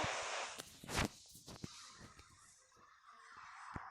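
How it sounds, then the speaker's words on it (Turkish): A car drives in the Minecraft video game with a skidding, scraping rush at the start. Sharp thumps and clicks follow as it fades to quieter rolling movement. "Araba."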